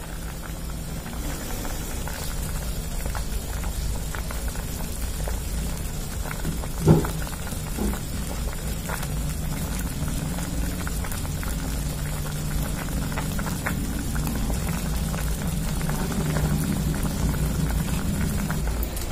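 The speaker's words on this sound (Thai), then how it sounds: "พุทราก็เริ่มเดือดแล้วนะคะใช้ไฟอ่อนๆเชื่อมไปค่ะ" Chinese jujubes simmer in sugar syrup in a pot over low heat, a steady close bubbling and crackling hiss that continues evenly throughout, with no talking.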